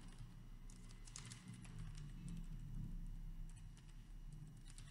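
Typing on a computer keyboard in Windows 10 while writing Urdu in Notepad, a quiet stream of quick key clicks in uneven bursts over a low steady hum.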